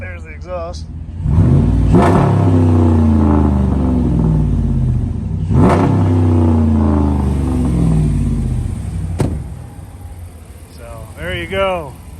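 A 2014 Ram 1500 5.7L HEMI V8 pickup's Rough Country exhaust roars through two loud revs a few seconds apart, each swelling and easing into a throaty rumble, with a short voice near the end.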